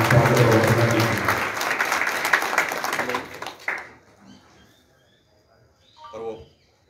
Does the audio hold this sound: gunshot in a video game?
no